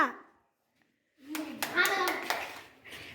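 A group of students in a classroom preposition game clap their hands together in a short burst of several claps, close by, mixed with children's chatter after a brief silence.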